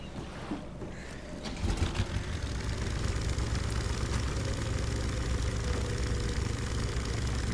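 A boat engine in The Sinking City runs as a steady, continuous low rumble. It swells louder after a second or two, then drones on evenly over a broad wash of water-like noise.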